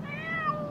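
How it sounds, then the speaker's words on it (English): A cat meows while stuck up a tree, one drawn-out, wavering cry lasting under a second, fairly faint and alone with no talk over it. "My kitty is stuck in a tree."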